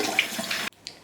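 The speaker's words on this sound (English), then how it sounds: "wash the hands." Running water from a kitchen tap while hands are washed before baking carrot cake cupcakes: a steady splashing flow that cuts off abruptly, followed by a faint drip.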